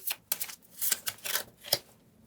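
Tarot cards shuffled by hand in quick, close bursts of riffling and flicking, several uneven rustles in a row and then a sharper snap before falling quiet.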